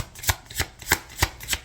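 Five crisp tarot card snaps at an even pace, each a short papery slap, close up with quiet gaps between.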